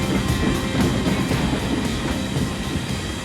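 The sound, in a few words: iron ore freight train passing on Norway's railway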